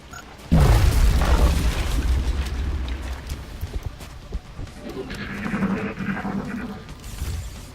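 A thrown bomb bursts with a sudden heavy boom in the XCOM Long War video game, the blast rumbling and fading over several seconds before a softer rushing swell of game noise follows.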